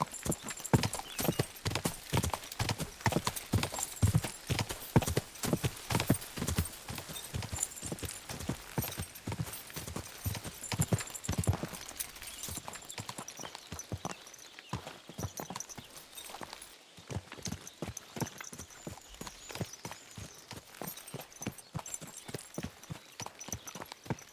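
Steady horse hooves clip-clopping in a fast, even rhythm throughout in the video game Kingdom Come: Deliverance 2, loud and close at first, easing slightly softer toward the end.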